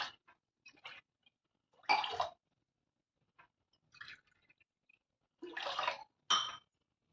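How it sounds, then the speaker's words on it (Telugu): Water poured in short separate bursts over washed rice and moong dal in a pressure cooker, close and fairly loud, with quiet pauses between pours and no talking. "ఈ రైస్ను పెసరపప్పు శుభ్రంగా కడుక్కున్న తర్వాత దీంట్లో ఒక 4 గ్లాసులు వాటర్ యాడ్ చేసుకుందాం"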